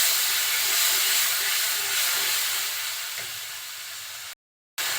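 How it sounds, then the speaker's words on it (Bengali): Turmeric and cumin powder sizzle in a pan during a bhuna for pumpkin with taki fish, a loud, steady frying hiss that eases slightly before cutting out abruptly near the end. "সব কিছু এখন একটু কষিয়ে নিব।"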